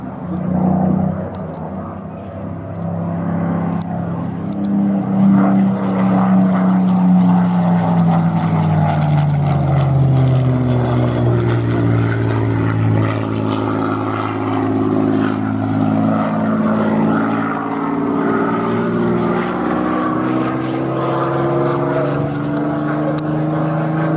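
A clipped-wing Castle Bromwich-built Spitfire Mark 16 flies overhead, its propeller engine growling loudly and continuously, the pitch sliding downward as it passes and trails away, with no talk.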